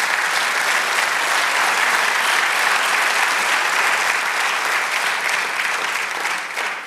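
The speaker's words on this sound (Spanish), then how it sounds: "Dar un aplauso al Señor." Church congregation applauding in a sustained, loud, even wash of clapping that holds steady throughout and eases slightly at the end, with no speech over it.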